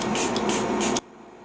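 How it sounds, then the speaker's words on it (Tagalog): Makeup setting mist sprayed in a few rapid pumps, a close, loud hissing burst lasting about a second before stopping abruptly into quiet. "Una, mag-spray ta og mist kay para modugay ang atoang makeup."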